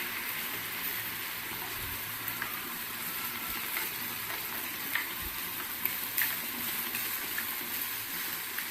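Sweet jowar flour appams frying in oil give a steady, quiet sizzle that hisses evenly throughout, with a few faint crackles popping up now and then.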